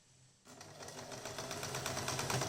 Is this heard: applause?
no